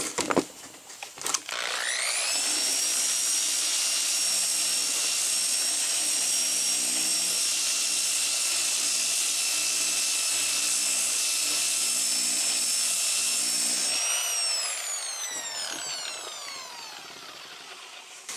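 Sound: DA sander with 80 grit sanding car interior filler

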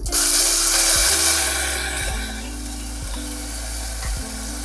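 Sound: tempering mustard seeds, asafoetida and curry leaves in a kadai, then adding ground masala

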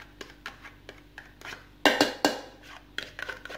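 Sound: mixing cream and cheese in a bowl for tiramisu

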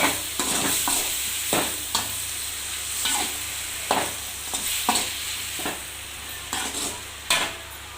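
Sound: six large tomatoes sautéing in a pan

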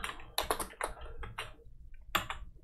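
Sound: typing on a computer keyboard

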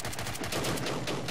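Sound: sniper gunfire in the video game Angels Fall First

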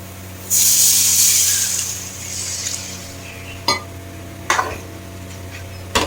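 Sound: tamarind extract poured into hot fish curry masala, sizzling

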